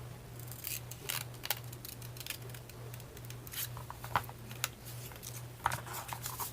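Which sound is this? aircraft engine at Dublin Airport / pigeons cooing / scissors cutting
scissors cutting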